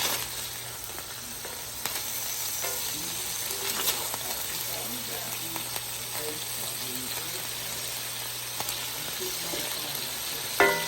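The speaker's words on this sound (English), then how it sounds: "now we're just gonna go ahead and give our burgers a flip" Burger steaks sizzling steadily in a pan after being flipped, with a continuous frying hiss and occasional small clicks and scrapes.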